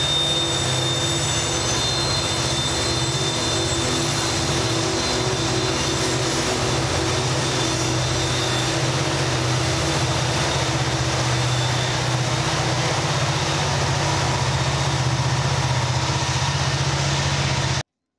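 Norfolk Southern SD70ACU helper locomotives passing on a mountain grade, a steady loud diesel engine drone with low rumble and faint wheel squeal, continuous and close.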